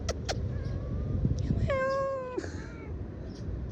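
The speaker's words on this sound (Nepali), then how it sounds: "ओए क्या दामी बिरालो यार" A cat meows once near a bus stop, a clear, drawn-out call standing out over steady street noise with a few faint, shorter sounds around it.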